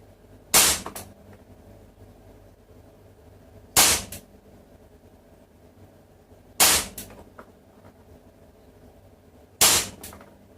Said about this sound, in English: I'm going to shoot 5 bullets and see how it performs. I'll do the high Capa first.